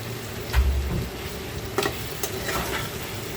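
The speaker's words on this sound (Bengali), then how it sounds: "দেখো পনিরটা ভাজা হচ্ছে, পনিরটা ভাজা হচ্ছে" Paneer frying in a pan gives a steady close sizzle for a few seconds, with occasional soft clicks and scrapes from stirring. No voices.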